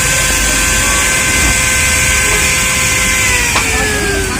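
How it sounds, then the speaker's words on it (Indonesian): Modern M-2350B angle grinder grinding iron, a steady high-pitched whine with broadband grinding noise held loud and close throughout, with a brief pitch dip near the end. "kita coba ngegerinda besi ini dulu nih"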